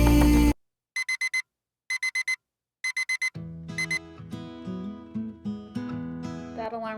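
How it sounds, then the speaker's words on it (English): An early-morning alarm clock sounds a brisk repeating beep pattern in short bursts, then gives way to a brighter melodic chime tone; nobody speaks. "That alarm clock didn't hurt as much"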